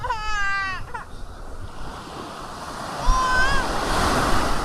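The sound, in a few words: ocean waves at Saud beach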